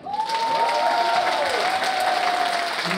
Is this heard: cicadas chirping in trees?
no